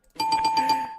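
A small bell rung once, a bright ringing tone with quick rattling strikes that holds for under a second, loud and close with no talk.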